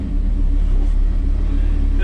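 An Audi R8 sits close by with a deep, steady engine rumble that stays even and loud throughout, with no gaps.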